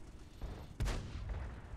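A tank shell strikes and glances off armor in World of Tanks, a single sharp metallic bang followed by a short ringing decay over quiet ambience.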